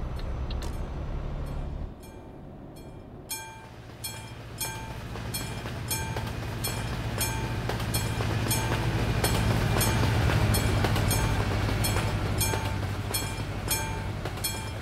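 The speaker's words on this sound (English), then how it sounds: "A reasonable length of train as well." A long train rolling past a level crossing in Euro Truck Simulator 2, a steady, loud clickety-clack of wheels over rail joints beneath a constant low engine hum, with no voices.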